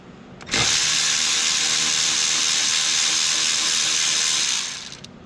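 A power ratchet spinning out a throttle body screw on a Ford Focus, one loud continuous whirring drone close by, starting abruptly and trailing off after several seconds, with no voices.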